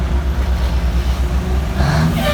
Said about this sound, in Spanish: video de bajando la línea en Kenworth T800 modelo 95